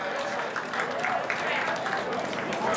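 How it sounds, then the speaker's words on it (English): Steady applause from a crowd, dense clapping continuing throughout with voices mixed in beneath it. "A round of applause for this young man."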